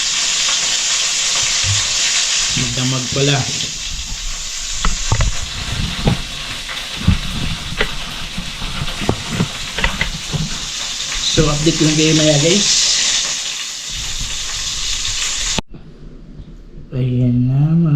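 Marinated chicken frying in oil, a steady loud sizzle and hiss with stirring clatter throughout, while a person talks over it at intervals.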